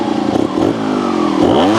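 A 2023 GasGas TXT Racing trials motorcycle climbs in second gear, its engine loud and close with a throbbing, rising note and some clattering as it revs up the slope.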